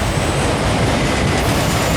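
A long Norfolk Southern mixed freight train hauling loaded auto racks rolls steadily past close by, a dense, continuous rumble of wheels and cars with no pauses.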